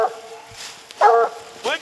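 A couple of short barks and yips from hunting dogs at a bear up a tree break through amid people talking outdoors, fairly close.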